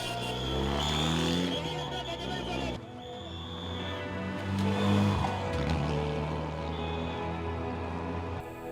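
Rally cars of the 2014 KCB Machakos Rally pulling away from the start: engines hum and rev steadily at moderate distance beneath continuous spoken narration.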